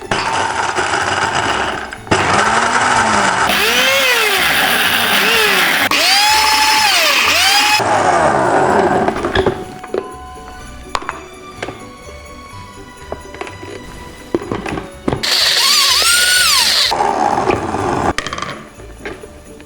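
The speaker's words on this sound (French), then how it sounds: "Je vais le faire en pulsation pour vraiment contrôler au mieux la manière dont le blender va hacher les noisettes." A kitchen blender grinds hazelnuts in short, loud pulses, each high whirring burst stopping abruptly, with quieter clinking and rattling in the gaps.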